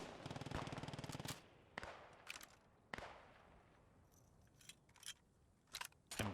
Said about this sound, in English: MG's firing again.